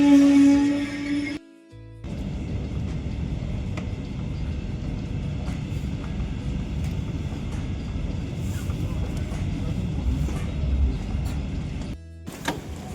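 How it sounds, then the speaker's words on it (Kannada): A train running on rails in Germany, heard as a steady, loud rolling rumble from on board that fills most of the stretch, with brief quieter gaps at the start and end. "ಚೆನ್ನಾಗಿದೆ ಅಲ್ವಾ ಟ್ರೈನ್?"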